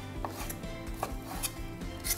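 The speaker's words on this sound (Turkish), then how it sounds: "Bu şekilde bastırdığımda çok kolay bir şekilde tahtanın üzerinde eti kesebiliyorum." Knife chopping beef on a wooden cutting board, a steady run of close, crisp thuds and scrapes about every half second over a faint hum, with no voices.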